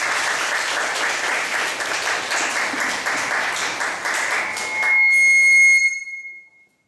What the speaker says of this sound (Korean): 박수로 맞아주시면